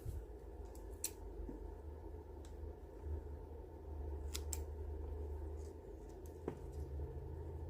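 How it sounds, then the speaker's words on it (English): A few sharp snips from scissors, spaced a second or more apart, stand out against a low steady hum; no one speaks. "And then just snip that with your scissors."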